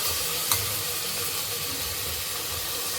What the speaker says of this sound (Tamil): இப்போ கழுவி வச்சுருக்க சிக்கனை இதில் போட்டுடலாம்.